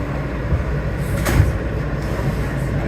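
Inside a Manhattan-bound R train on the legacy BMT subway, a continuous rumble fills the car, with a sharp clack near the middle and a door-like thump.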